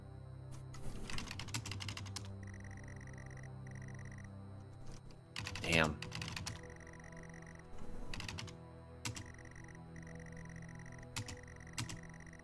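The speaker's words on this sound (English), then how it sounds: "the sound effects on these key presses is tremendous too" Keyboard key presses in a spooky story video game, a run of clicky typing bursts spread through the clip over a steady low hum, with no talking.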